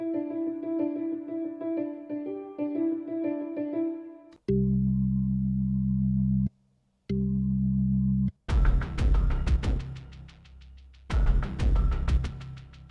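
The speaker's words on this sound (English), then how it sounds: "This is some of the percussion at the chorus." Chorus percussion from a pop song plays in separate segments: first a light, ticking pattern, then a heavy low sustained section, then dense, crashing bursts of hits with a short silent gap between parts.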